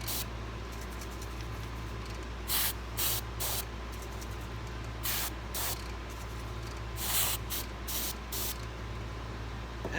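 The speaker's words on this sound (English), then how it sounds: "now just spray it with a little accelerator" Accelerator sprayed onto the inlay of a titanium ring set with wood and opal, a steady close hiss with several short, sharper bursts of spray standing out from the constant noise.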